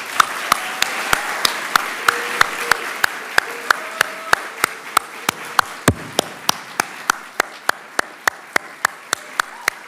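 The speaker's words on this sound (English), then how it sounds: "Let's give them one more round of applause." Audience applause at a Master of Nursing hooding ceremony, sharp claps in a steady, even rhythm over a bed of broader clapping, lasting throughout at moderate loudness.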